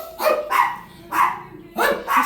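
A dog at an animal shelter barks and whimpers in a run of sharp, close, loud yelps spaced about half a second apart, with no talking over it.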